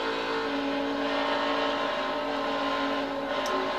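NASCAR Xfinity race cars circling the track at Fontana, a continuous steady engine drone with layered tones, moderately loud and unchanging, with no talk over it.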